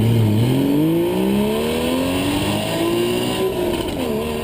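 2015 Porsche Boxster base model with its 2.7-liter, 265-horsepower flat-six, loud and close as the engine revs and climbs through rising pitches, easing between gears, with no voices.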